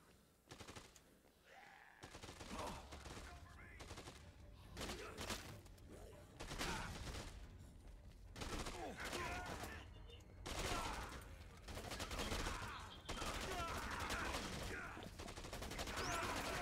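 Enemy gunfire rattles in sustained bursts of rapid shots, loud and continuous, in the zombie action game Dead Rising 2, while players talk over the shooting.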